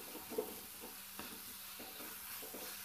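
Tomatoes cooking down in a pan for lauki (bottle gourd) sabzi are stirred with soft scraping strokes over a faint, steady sizzle, close and quiet with no talking.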